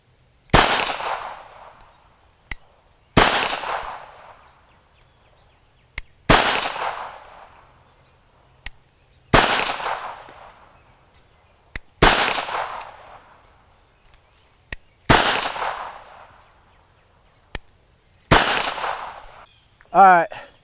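A Bersa Thunder .380 pistol fires Federal aluminum-cased ammunition: seven loud, sharp shots at a steady pace of roughly one every three seconds, each ringing off with a short decay, with faint mechanical clicks in between.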